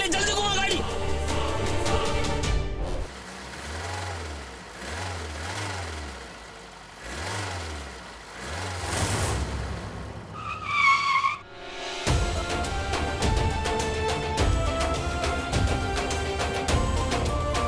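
A car swings through a hurried U-turn, tires skidding and engine revving in a fast, tense maneuver, with dramatic music and shouting voices layered over the screech.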